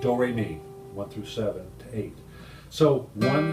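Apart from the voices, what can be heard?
No everyday noise stands out behind the speech.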